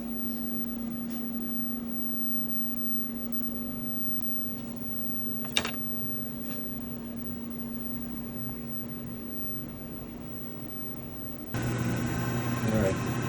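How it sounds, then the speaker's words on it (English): In a guitar shop, a drum sander runs with a steady low hum and whirring drone, a brief knock partway through and a louder, rougher grinding surge near the end. "This is a drum sander."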